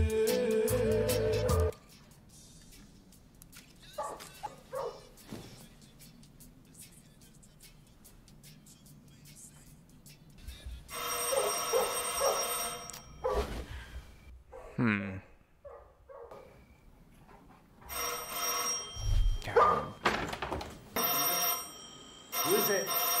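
A telephone rings in a tense horror-film scene, a few loud bursts of ringing separated by quiet stretches, heard alongside film sound and a voice talking over it.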